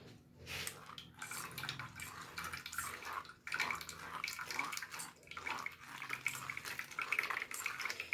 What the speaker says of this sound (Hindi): अब हम इसको बाउल में छान के आपको दिखाते हैं।